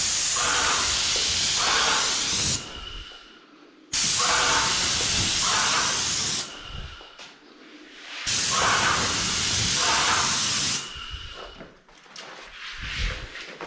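Paint sprayer coating doors, loud broad hissing bursts of a few seconds each, broken by short pauses as the trigger releases, repeated about four times.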